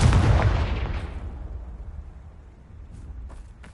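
A Confringo spell blasts in Hogwarts Legacy, a loud booming explosion right at the start that rolls off into a long rumbling decay with faint crackles near the end.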